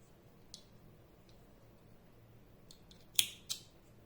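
Scissors snip crochet yarn close by at the end of a round coaster, giving a couple of sharp, quiet clicks after a faint tick earlier in otherwise near silence.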